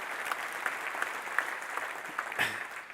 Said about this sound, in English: So I just want us to give them a round of applause